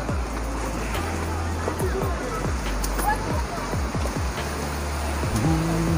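Pahine waterfall near Trimbakeshwar, Nashik, pours water down a hillside in a steady broadband rush, with people talking over the continuous flow.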